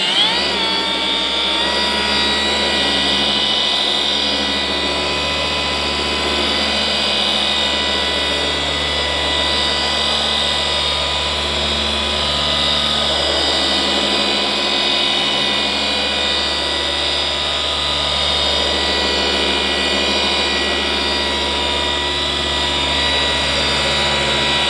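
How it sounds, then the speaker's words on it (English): A Milwaukee M18 cordless dual action polisher with a 15 mm throw runs with cutting compound, a steady, loud, continuous motor whine with a low hum that holds evenly from start to finish, with no talking. "We'll try out this polisher."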